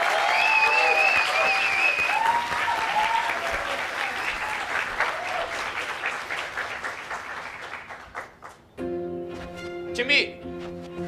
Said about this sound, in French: Et maintenant, un grand applaudissement pour notre médaillé, Oscar Munoz.